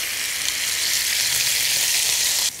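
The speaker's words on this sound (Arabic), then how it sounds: "دلوقتي ابتدت اللحمة عندنا تتحمر" Steak searing in a hot pan, a steady close sizzle of frying meat with a continuous hiss that cuts off suddenly near the end.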